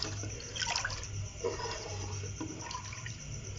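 Yakhni broth pours into a pot of beef nihari whose spices have been fried in ghee, giving a steady, quiet liquid rush and splash that carries on throughout with no talking.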